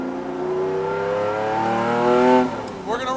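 A Lamborghini Diablo SVR, the marque's first factory race car, revs its engine in loud, rising sweeps that climb in pitch, then drop off sharply and start to rise again.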